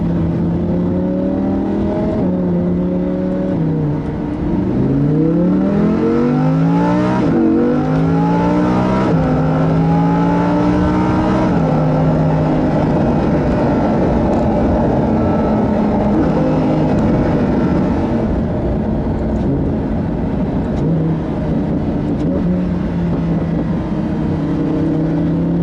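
A Lamborghini Huracan LP610-4 engine revs loudly from close by, with a string of quick downshifts that make its pitch jump and sweep up and down before it settles into a steady, sustained roar.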